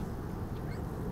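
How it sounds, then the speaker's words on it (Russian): Ducks on a swamp during a spinning-rod fishing trip quack faintly and briefly a couple of times beneath steady outdoor noise. "Утки что-то наприплывали."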